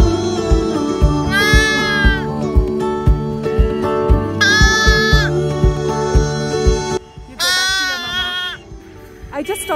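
Sheep and a small lamb bleat near a lakeside in Kashmir in autumn, three drawn-out wavering bleats at spaced intervals over a steady background of music and voices.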